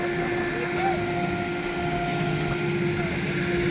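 Aircraft cabin noise on a flight from Porlamar on Margarita Island to Caracas, Venezuela: a loud steady engine drone with a constant tonal hum, heard from inside the plane while people talk over it.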